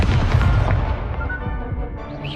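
A burst of spell-casting effects from the Hogwarts Legacy video game, a dense booming whoosh that stays loud across the whole short stretch and fades slightly at the end, with no talk.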